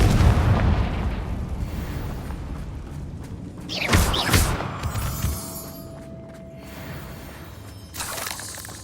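The Confringo fire spell bursts in the Hogwarts Legacy video game, a loud booming explosion with a whooshing crackle over rumbling game ambience, followed by quieter mechanical creaks and a later fainter burst.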